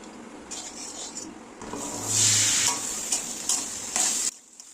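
Vegetables for a vegetarian sago dish fry in white oil, giving a steady close sizzle with brief stirring scrapes and a louder hissing burst midway before it cuts off near the end.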